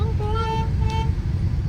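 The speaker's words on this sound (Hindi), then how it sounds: "कॉमेडी है इसका हॉर्न, वो पुंगी की तरह है, पुंगी" A new car's horn gives a few short, nasal toots with a reedy, pungi-like tone over low engine and street rumble, close and fairly loud.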